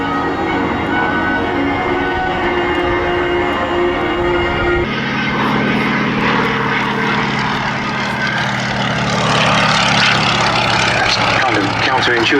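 Two vintage biplanes, a Fairey Swordfish and a Hawker Nimrod, fly past together at the Duxford air show. Their propeller engines drone loudly and steadily and swell into a broad roar partway through, while a commentator talks over them.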